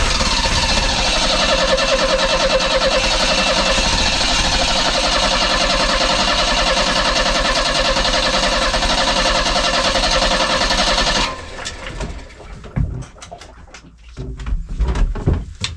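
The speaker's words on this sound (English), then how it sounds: "what I've got to do now is turn the engine over on the key and crack off each injector one at a time" Car engine cranking steadily on the key during fuel injector bleeding, a loud continuous churning drone for about eleven seconds that cuts off abruptly, followed by scattered clicks and knocks.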